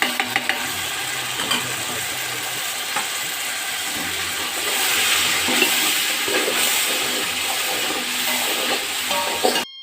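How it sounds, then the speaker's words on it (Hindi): Masala with tomatoes and yogurt fries in a pot, giving a steady, fairly loud sizzle and bubbling hiss that continues throughout with slight swells and no talking. "मसाला हमारा तकरीबन फ्राई हो चुका है"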